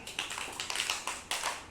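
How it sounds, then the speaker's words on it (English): A small group of children in a 1st standard classroom clap for a classmate with quick, uneven, light hand claps close by, and no talking. "Clap for Devashree, all of you."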